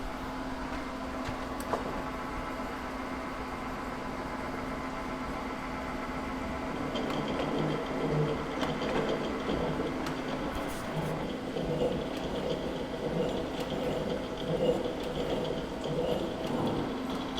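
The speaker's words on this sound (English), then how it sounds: "start getting the cutter close, lined up, and start cutting this keyway" A milling cutter cuts a keyway into a large sprocket of hard material, making a steady machine drone that grows into a rougher, rhythmic grinding chatter about halfway through, with no talk.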